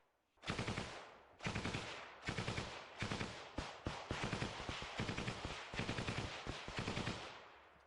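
Machine gun fire in battle, a series of loud rapid bursts of shots with short gaps between them, continuing steadily for several seconds.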